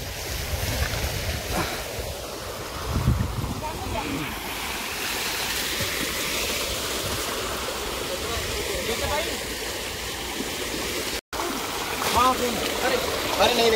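Water gushes and splashes steadily from a tubewell in a farm field in Haryana where people are bathing, a loud continuous rushing wash close to the microphone, with a brief break near the end.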